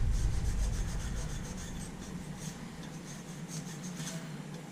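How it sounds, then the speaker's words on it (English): A Scotch-Brite pad rubs and scrubs over a handmade copper pipe rose, a steady close abrasive rasping with quick repeated strokes, loudest at first and easing slightly as it goes on. "Now when we clean it up, a little bit of Scotch-Brite."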